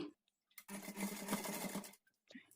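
A sewing machine stitches a blouse side joint in one continuous close whirring run of about a second and a half, with quiet gaps before and after.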